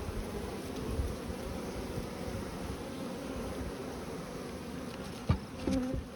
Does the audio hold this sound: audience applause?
no